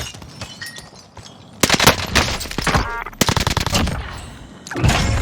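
Owen Gun firing in Call of Duty: Warzone, loud close bursts of rapid submachine-gun fire in several separate volleys with short quiet gaps between them.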